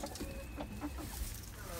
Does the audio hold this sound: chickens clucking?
yes